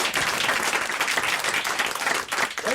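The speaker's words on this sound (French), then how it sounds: "On applaudit encore Pierre Bénichou." A studio audience on a French broadcast applauds Pierre Bénichou, a dense, even clapping that runs the whole time at a moderate level.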